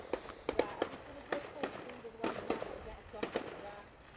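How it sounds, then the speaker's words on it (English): Fireworks crackle and pop outdoors near a cemetery, a scattered series of sharp bursts at middle distance, some close together, while people talk nearby. "There you go, fireworks"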